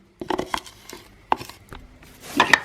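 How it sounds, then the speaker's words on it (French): Chopping meats for a chicken liver terrine: a few quick knife strikes on a board in short clusters, close and crisp, ending with a faster flurry of cuts. "Pendant ce temps, je hache toutes les viandes."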